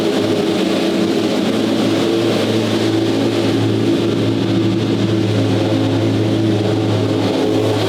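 A car engine holds a rough idle close by: a steady, low, throbbing drone that runs unbroken from start to finish with no voices over it.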